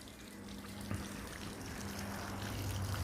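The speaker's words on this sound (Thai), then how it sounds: "หัวโต้วาวก็จะดูด น้ำเกลือเข้าไปนะครับ" An auto valve on a fiberglass water filter tank draws brine in with a faint, steady trickle of flowing liquid, quiet and continuous throughout.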